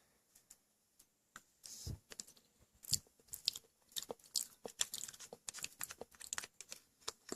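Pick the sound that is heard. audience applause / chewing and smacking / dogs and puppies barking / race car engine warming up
chewing and smacking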